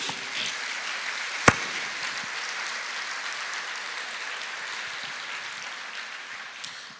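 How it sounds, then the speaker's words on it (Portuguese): Steady applause from a church congregation fills the space at moderate volume, a continuous wash of clapping with one sharp louder clap near the start. "aplauda ao Senhor."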